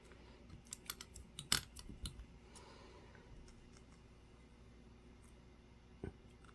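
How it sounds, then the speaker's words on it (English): Scissors snip through a dried paint skin made from glitter whips and liquigels, trimming away a small rose section: a few sharp, close clicks in the first two seconds, one louder cut, then near silence and a last snip. "cut off that little section where the rose is"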